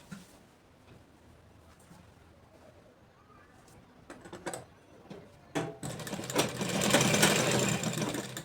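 Sewing machine stitching the seam of ladies' plazo pants with a half-inch seam allowance, starting faintly with scattered clicks and then building into a steady, close whirring run with no talking.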